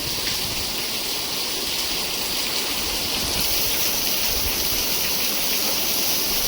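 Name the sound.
heavy rain pouring in a village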